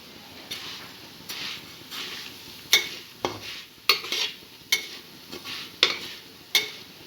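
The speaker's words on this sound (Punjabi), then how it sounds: "ਹੁਣ ਇਹਦੇ 'ਚ ਹੁਣ ਆਪਾਂ ਸੇਵੀਆਂ ਪਾਉਂਦੇ ਆ ਇਹਨਾਂ ਨੂੰ ਨਾਲ ਦੇ ਨਾਲ ਹਿਲਾਉਂਦੇ ਰਹਿਣਾ" Vermicelli (seviyan) fries in a hot pan under a soft steady sizzle, punctuated by about a dozen sharp scraping and tapping stirs, increasingly regular in rhythm, heard up close with no talking.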